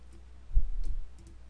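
Two or three soft, close computer mouse clicks, faint and isolated, spaced across a quiet moment with no voices.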